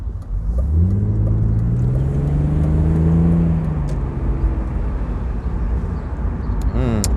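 A BMW Z3 3.0i roadster driving on a New Zealand road, its engine revving up and easing off through gear changes under steady road and wind noise, heard from inside the car.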